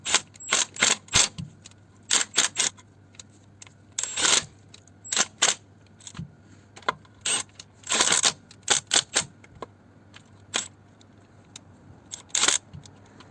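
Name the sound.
tightening oil sump bolts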